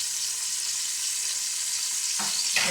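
Pork and bacon fry in a deep pan, giving a steady, dense sizzle that sounds close and fairly loud, with a couple of brief clinks or stirring knocks near the end and no talk.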